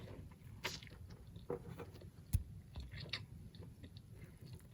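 Close, quiet chewing of Vietnamese garlic noodles with parmesan cheese, with soft wet bites and a few sharper clicks of the mouth, and no talking.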